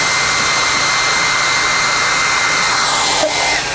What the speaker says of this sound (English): when you put the hairdryer up against these balls